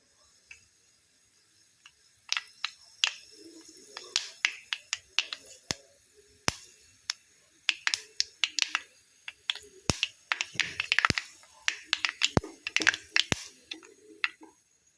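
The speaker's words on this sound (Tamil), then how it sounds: "கடுகு உளுந்த பருப்பு பொரிஞ்சிருச்சுங்க பொரிய ஆரம்பிச்சிருச்சுங்க கொஞ்சம் பொரியட்டும்" Mustard seeds and urad dal spluttering in hot oil for a Thengai (coconut) chutney tempering, a rapid irregular burst of sharp pops and crackles, close and fairly loud, growing denser as the seeds heat, with no talking.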